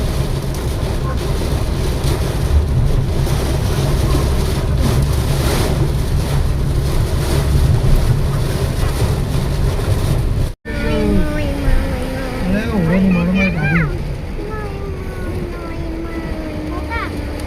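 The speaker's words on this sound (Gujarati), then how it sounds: "બહુ વરસાદ ને પવન બહુ" Heavy monsoon rain and strong wind buffet the outdoors near Ahmedabad and Mehsana. A loud, steady roaring rush hits the microphone throughout, and a person talks briefly in the later part.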